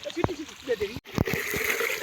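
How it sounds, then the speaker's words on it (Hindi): Water is poured into a bucket at a spot where water is drawn, giving close splashes and sloshing in uneven bursts, partly under people talking. "ଏ ବାଲ୍ଟିରେ ପାଣି ବୁହା ହେଉଛି।"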